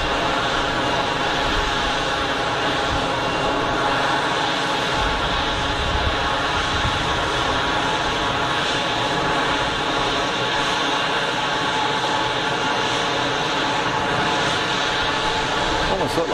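An easyJet airliner lands at Geneva Airport, a broad steady jet roar holding at even loudness for the whole stretch, with a person talking over it.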